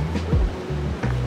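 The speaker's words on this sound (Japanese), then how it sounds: "海です。" Sea waves wash in at a surf beach on a cool day, a steady, loud roar of surf with rising and falling swells and low rumble, heard on their own without talk.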